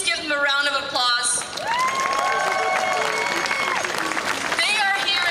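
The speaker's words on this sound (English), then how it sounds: "Can you please give them a round of applause?" Crowd at an outdoor rally against anti-Asian racism in Nathan Phillips Square claps and cheers, sustained clapping with whoops and scattered shouts, voices mixed in throughout.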